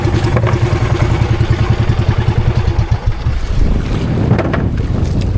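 Strong wind buffets the microphone on the Pacific over the low, steady throb of a fishing boat engine, loud and continuous with no voices.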